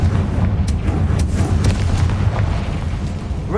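The Confringo blasting curse in Hogwarts Legacy fires off as a heavy rumbling boom with crackling bursts layered over it, loud and continuous throughout.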